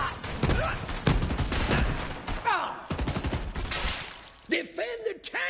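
Rapid gunfire in Borderlands 3, with dense volleys of shots crackling over several seconds while character voices shout between and over the firing.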